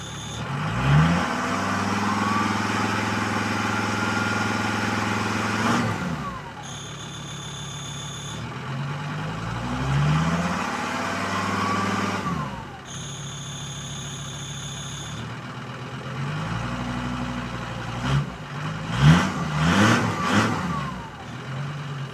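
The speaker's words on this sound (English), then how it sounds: "The engine started and it's idling and it's revving perfectly" A diesel car engine, just after a fuel filter change, idles steadily and is revved several times, with rising and falling pitch and brief squeals; sustained, close and loud throughout.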